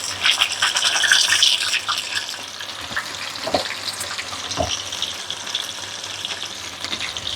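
Sweet corn fritters, dropped by hand into hot oil, fry with a dense, crackling sizzle that is loudest at first and then settles, broken by a couple of brief clinks or taps, with no voices.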